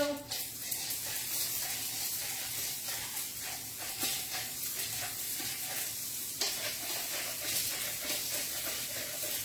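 Sliced onion sizzles and crackles in a pan with a steady frying hiss, close and moderately quiet, with occasional stirring and talk in the background.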